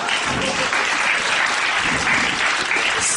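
A stand-up comedy audience claps steadily and densely throughout, a full room of applause with no talk over it.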